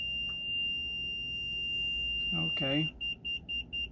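A car's dashboard warning chime beeps four times in a steady rhythm after the key is switched to the on position with the engine off. It is fairly clear and close, following a brief spoken word.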